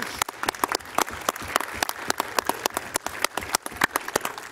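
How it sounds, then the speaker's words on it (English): Scattered applause from a council chamber audience at a city council session, with distinct, uneven individual claps rather than a dense roar, moderately close and alone for several seconds. "So round of applause for our team"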